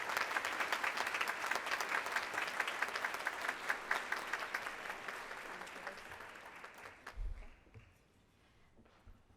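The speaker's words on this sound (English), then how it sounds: "Let's give them a round of applause as they're coming to the stage." Audience applause fills a live awards night for education, with dense sustained clapping from a large crowd that thins out and fades into quiet near the end.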